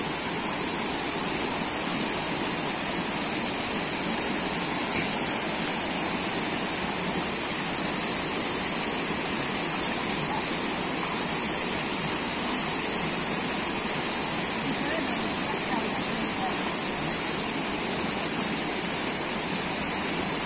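A hillside river flows nearby with a constant rushing, roaring wash of water that stays steady and loud from start to finish, with no voices.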